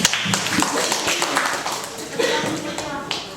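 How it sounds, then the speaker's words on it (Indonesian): Students in a classroom clap in scattered, uneven bursts that start strong and then thin out, with speech continuing over and between the claps. "beri tepuk tangan untuk Asila."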